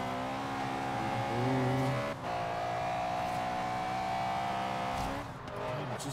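A Honda Civic drifting in a racing video game, with a sustained engine drone and tire squeal that shifts pitch mid-slide, steady and close throughout.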